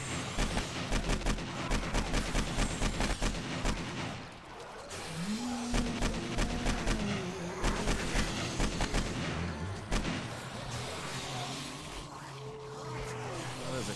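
Gunshots in the 7 Days to Die video game during a crowded wave fight, a steady rhythmic run of fairly faint repeated shots over a busy bed of game noise, with voices talking partway through.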